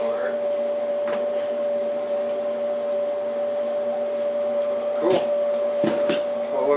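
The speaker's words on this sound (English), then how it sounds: "Tell you what, that is a smooth running welder." A Lincoln welder runs with a steady, smooth mechanical hum and a constant tonal whine, holding an even level throughout, with a couple of brief clicks or knocks near the end.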